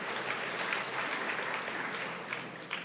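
Quiet applause from a church audience during a sermon, soft and fairly even clapping that sounds distant and restrained, with a few sharper claps near the end.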